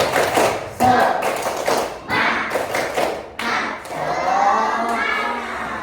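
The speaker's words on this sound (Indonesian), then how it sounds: "Ayo kita tepuk semangat dulu ya." A classroom of students does the rhythmic "tepuk semangat" clapping chant, with bursts of hand claps and thuds in a patterned beat mixed with young voices calling out together.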